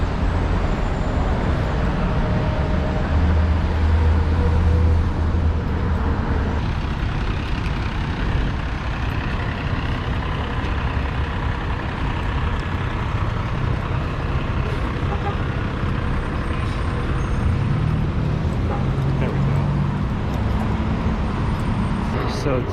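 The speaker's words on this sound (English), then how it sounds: "Morning traffic." Morning traffic on a New York city street churns on in a loud, continuous wash of cars, trucks and buses, with heavy engines swelling and fading nearby.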